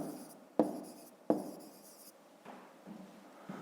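Pen strokes of numbers being written by hand on paper, soft scratchy rubs with a few sharp taps, close and quiet in a still room.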